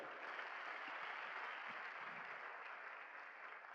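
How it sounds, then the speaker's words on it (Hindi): Applause at a celebration welcoming a woman to the stage, a steady, fairly faint patter of many hands clapping, heard from some distance and unbroken across the stretch. "वेलकम कीजिए एक बढ़िया ताली से नताशा को"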